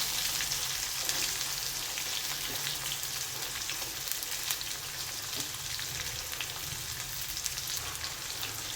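Chopped onion frying in a pan of hot oil for buttermilk sooji upma, a steady, close sizzle and crackle holding evenly throughout with no voices.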